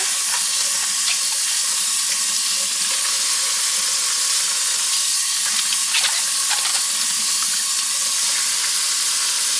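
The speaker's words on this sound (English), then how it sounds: "I'm getting my squash all washed off" Squash being washed under running water from a kitchen faucet, a steady loud hiss of flowing water with small splashes and knocks throughout, no talking.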